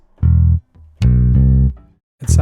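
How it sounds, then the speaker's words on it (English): A Precision bass played with the fingers, dry with no effects and recorded direct into an audio interface, sounds three short deep notes separated by brief gaps, clean and close. "It sounds like a DI bass that's run right into the audio interface."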